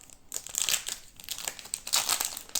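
Weiss Schwarz trading card booster pack wrapper being torn open by hand, a close, crisp run of crinkling and ripping foil-like plastic in several quick bursts.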